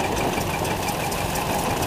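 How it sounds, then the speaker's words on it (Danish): A 1968 Rapid racer-type tractor with an 18 hp engine runs at a steady, knocking idle, heard close and continuous with no talk over it. "Racer-type traktor jo, som man brugte i Schweiz. Den er fra 68 og har 18 heste."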